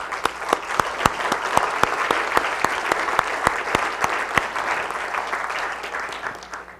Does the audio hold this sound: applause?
yes